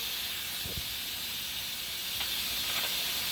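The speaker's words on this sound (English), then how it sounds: "We have our red oil getting hot." Red palm oil heating in a cooking pot for okra stew, giving a steady close hiss and sizzle that runs evenly throughout with a few faint knocks.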